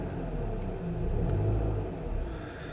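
Car engine idling with its RPM bouncing up and down, a low steady rumble that swells and dips in uneven surges, close and continuous with no talking.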